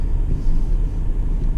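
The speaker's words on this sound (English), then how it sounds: "I'm just gonna drive the car off, ease it off." Low engine rumble of a 2019 Audi A7 with an electronic shifter easing off from a stop on a test track, a steady close drone with no distinct revving.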